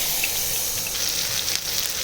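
Spice paste hitting hot oil in a wok while cooking a Bengali vegetarian aloo dum with asafoetida, a steady, loud crackling sizzle throughout with small pops, no voices.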